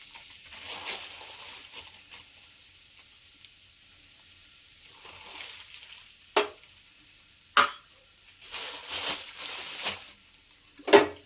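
Medium semolina (rava) frying in ghee for kesari bath, quiet soft crackling broken by several sharp scrapes and clinks of stirring that grow more frequent toward the end.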